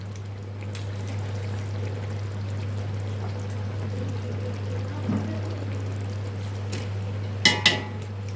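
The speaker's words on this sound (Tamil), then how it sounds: "தண்ணி வந்து எல்லாத்தையும் வந்து வடிச்சிடணும்." Water drains off cooked basmati rice for chicken biryani as a steady, wide wash over a constant low hum, with a couple of sharp metallic clinks near the end.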